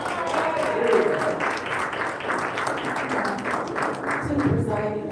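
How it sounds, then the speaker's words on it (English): Applause at a city council special meeting, a sustained round of clapping filling the room at moderate distance, with some talk mixed in. "So I think that we ought to give the Lord a round of applause."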